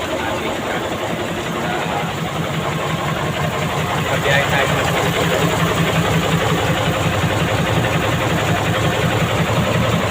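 A faulty, breaking-down vehicle engine runs with a steady, rough mid-pitched idle throughout, fairly close, while someone talks over it.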